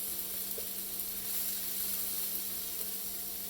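Onions sizzle in melted butter in a pan on a barbecue grill, a steady broadband hiss that holds at an even level throughout with no talking.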